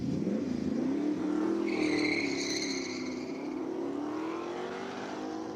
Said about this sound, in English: Listen to that V8 all the way up the track.